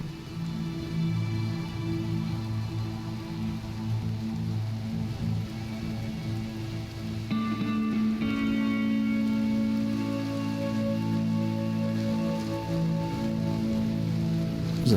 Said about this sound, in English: This is a nice drama rain.